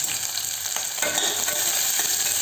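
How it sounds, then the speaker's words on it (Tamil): Chopped onion and a green chili fry in a pan for a vegetable kurma, giving a steady close sizzle with occasional stirring scrapes and no talk. "பாருங்கள் வெங்காயம் நல்லா வதங்கி வந்துருச்சுங்க."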